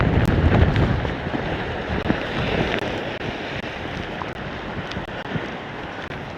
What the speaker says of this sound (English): Here's windy, yeah, the wind is still here.